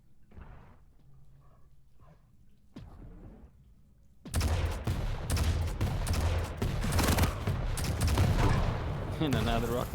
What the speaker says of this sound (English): And another rocket.